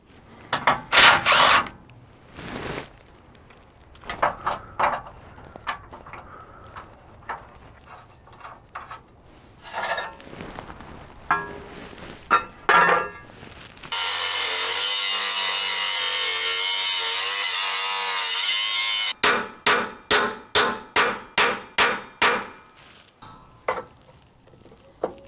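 Grinder working quarter-inch-wall 2x2 steel tube, loud bursts of rough abrasive grinding, then a sustained steady grind followed by a run of evenly spaced short passes, close and alone.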